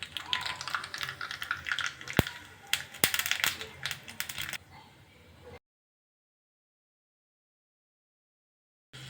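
Sharp, irregular crackling and popping of mustard seeds in hot oil sizzles close by for a few seconds, then stops into silence.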